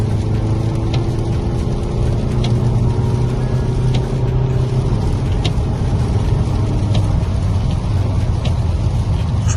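Seat Leon FR accelerating in fifth gear from inside the cabin, a steady loud engine drone layered with road and tire roar that holds throughout.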